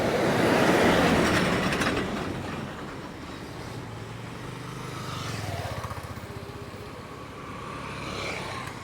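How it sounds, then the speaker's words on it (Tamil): A bus rumbles past close by in Batticaloa, Sri Lanka, loud at first and then easing off into a steady drone, with a faint engine whine. "புல்லுமலையிலேருந்து வருது பஸ்"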